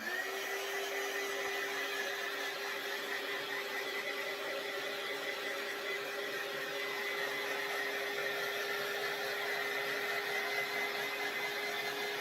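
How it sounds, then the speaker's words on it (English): A handheld heat tool blow-drying painted fabric on a DIY tea towel, heard as a continuous, even, close whirring blower hum with a steady whine that runs for the whole stretch, with no voices. "Let's go ahead and bring our heat tool in really quick. Let's give it a good blow dry"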